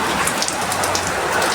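Heavy rain pouring down at Divisoria market, a loud, dense, continuous hiss of drops hammering nearby surfaces, unbroken throughout.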